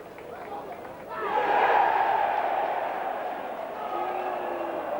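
A distant rugby league crowd swells into a broad roar of cheering that rises, peaks and slowly fades, heard with echo beneath a faint commentary voice.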